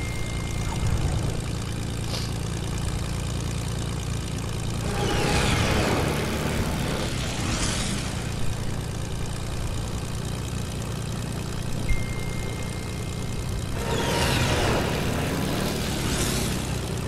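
A propeller plane's engine drones steadily in a battle royale video game, a constant mid-distance hum with occasional swelling whooshes of wind or passing movement, and no voices over it.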